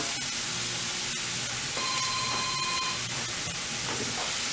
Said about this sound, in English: I'm just going to keep sauteing those onions until they're nice and translucent.